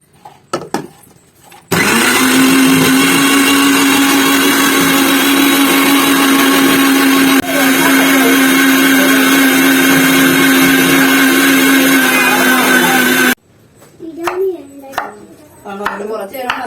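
A kitchen mixer grinder whirs loudly and steadily for about twelve seconds while grinding shallots, onions and green chillies. It starts and stops abruptly, and someone talks briefly before and after.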